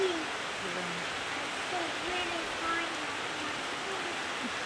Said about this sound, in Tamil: செம்ம மழை பெஞ்சிட்டு இருக்கு, ரொம்ப ரொம்ப சூப்பரா இருக்கு.